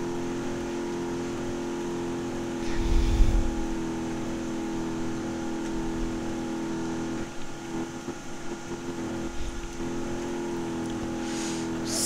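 A mini monster truck driving in the BeamNG Drive video game, its engine a steady droning whine with a brief revving surge and some rougher bumps later on.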